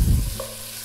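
A whole garlic clove and a chili pepper sauté in hot oil in a pan, a short burst of close sizzling that quickly settles into a soft, steady hiss.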